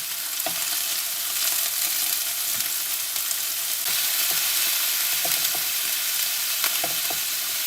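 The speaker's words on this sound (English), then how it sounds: "As these are cooking, we'll just keep carefully turning them, trying not to break them up." Meatballs frying steadily in a pan for a meatball and pasta bake, with a constant loud sizzle and occasional soft knocks and scrapes as they are carefully turned, no talking.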